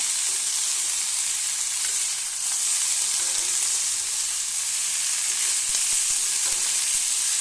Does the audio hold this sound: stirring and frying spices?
yes